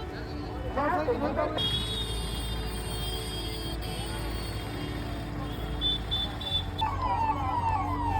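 A wailing fire engine or ambulance siren rises and falls continuously over a busy crowd murmur at a fire in an akhara camp at the Maha Kumbh, with the siren's pitch sweeping up again near the end.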